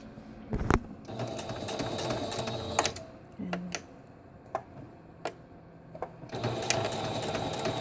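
A sewing machine stitches a seam in landscape fabric for a large grow bag, a low steady mechanical whir broken by sharp ticks and clicks, close up and fairly quiet.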